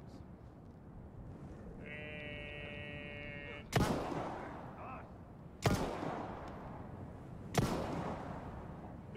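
Three heavy booming video game explosions in Resident Evil 4 Remake, spaced about two seconds apart, each a sharp broadband burst that trails off, with a steady tonal sound and faint speech earlier.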